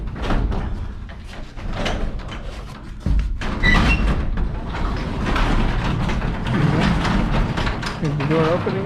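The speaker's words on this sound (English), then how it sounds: "This door should open up pretty good." Garage door on its first run after two torsion springs were replaced, giving a rattling, clattering mechanical roll with bumps and thuds, fairly loud and close, while people talk over it.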